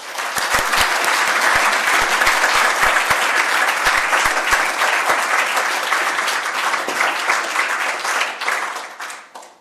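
A lecture-hall audience at a university inaugural lecture breaks into sustained, even applause for the speaker, dense clapping from many hands that holds steady for several seconds before tapering off at the end.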